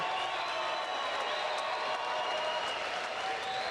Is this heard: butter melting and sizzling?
no